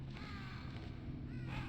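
Crows caw inside the Metal Gear Solid video game, a few harsh calls rising over a steady low background hum of game ambience, with no talking.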